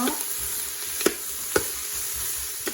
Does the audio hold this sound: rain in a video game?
no